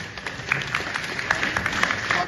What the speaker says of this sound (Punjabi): ਆਪਾਂ ਖੜੇ ਹੋ ਕੇ ਤਾੜੀਆਂ ਇਹਨਾਂ ਨੂੰ